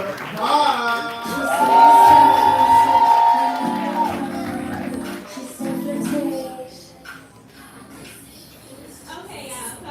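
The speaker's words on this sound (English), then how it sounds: "We're clapping, we're building energy, make some noise" An audience at a live poetry show cheers, whoops and claps loudly. The crowd noise swells early, then eases under a host's voice.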